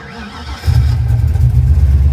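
A car engine fitted with an Edelbrock 1405 carburetor, adjusted at the manual choke, cranks briefly and then catches, settling into a loud, steady, close-up running rumble.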